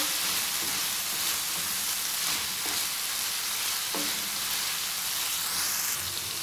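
Minced beef sizzling steadily in a hot pan, a continuous crackling hiss with a few faint clinks of stirring.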